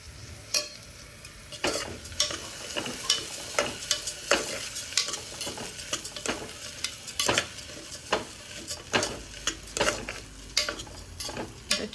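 Rice and moong dal are stirred in a sizzling pan for a field-bean rice dish. A spoon scrapes in repeated short strokes over a steady frying hiss, close and fairly loud, with no talking.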